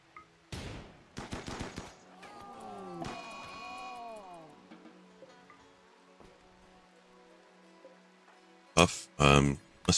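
Gunfire crackles in a RimWorld colony skirmish, a clustered burst of sharp shots early on and another tight volley near the end, separated by quieter game tones and a sliding musical cue.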